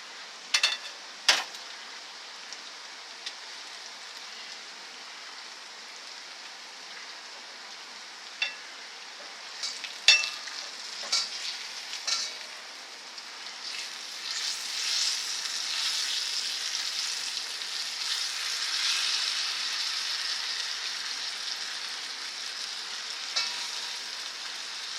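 Bananas fry in a CeramiClad non-stick pan with a quiet, steady sizzle that swells midway, punctuated by a few sharp clicks and taps of a utensil against the pan.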